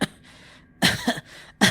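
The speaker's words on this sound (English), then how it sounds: "when I began to cough." Three short, harsh coughs come in quick succession, close and fairly loud, with brief quiet gaps between them.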